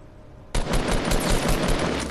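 Gunfire in the Fortnite video game erupts suddenly after a quiet moment into a loud, rapid, continuous burst of shots.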